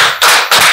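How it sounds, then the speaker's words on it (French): Applause for two guests on a French television talk show, loud and dense, swelling in two bursts with a short dip between them, no voices over it. "encore un tonnerre d'applaudissements pour les deux"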